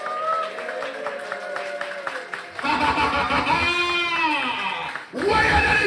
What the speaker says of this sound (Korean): If you believe, clap your hands and be blessed.